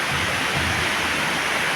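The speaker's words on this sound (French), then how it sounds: "Oh, il y a une autre cascade là." A waterfall roars as a steady, loud, even rush of water that fills the whole moment, with no voices over it.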